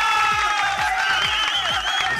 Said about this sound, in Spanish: Grecia, pon los aplausos, por favor.